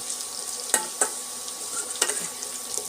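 Grated amla (Indian gooseberry) fries in a pan with a soft, steady sizzle, broken by a few sharp scraping strokes of a spatula stirring it close by.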